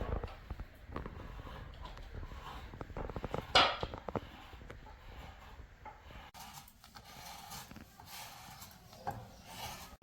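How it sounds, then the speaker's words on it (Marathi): Half a kilo of jaggery is grated for puran, giving repeated soft rasping strokes against a grater that come close and moderately quiet, with one sharper scrape partway through and a faint background hum. "अर्धा किलो गूळ मला किसून घ्यायचा आहे."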